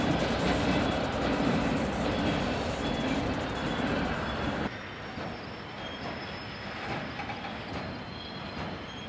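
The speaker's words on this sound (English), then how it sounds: "The auto racks will be cut off the rear of the train here at Gibson Yard before the rest of the train continues west to Blue Island." A Chicago, Fort Wayne & Eastern freight train carrying auto racks rolls through Gibson Yard, a loud continuous rumble of railcars with faint wheel squeal, dropping to a quieter steady roll partway through.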